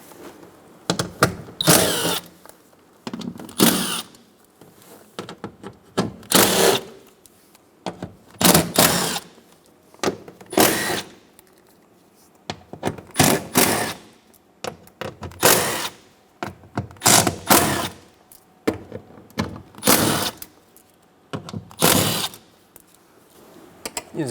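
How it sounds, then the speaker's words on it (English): Removing 10mm bolts from a 2007-2012 Nissan Altima front door panel, with repeated bursts of a power tool's whirring ratchet, each lasting a second or two and separated by short pauses, close and fairly loud. "Remove all the 10mm bolts around this panel"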